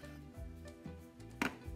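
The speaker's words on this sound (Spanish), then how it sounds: "Enseguida también vamos a picar nuestro jitomate." A knife chops a tomato into small cubes on a cutting board, a few soft, quiet thuds at an uneven pace, close by with a steady background hum.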